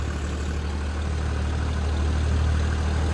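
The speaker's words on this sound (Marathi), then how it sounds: "पाऊस चालू आहे तरी ट्रॅक्टर चालू आहे ट्रॅक्टर बंद नाही" Steady low engine drone from a tractor running in the rain, continuous and fairly close, with a constant rumbling hum and no voices.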